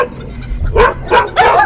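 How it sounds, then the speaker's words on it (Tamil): A farm dog barks at intruders, three sharp, loud barks spaced out in quick succession, close by with nothing else over them. "அங்க இருந்த நாய் இவங்கள பார்த்து குலைக்க"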